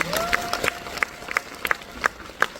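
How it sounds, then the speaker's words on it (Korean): A film screening audience at a special Q&A offers thin, scattered applause, a handful of distinct claps spaced unevenly and fairly faint against a quiet hall. "어, 감정 씨는 보여주신 두 분께 또 박수 부탁드립니다."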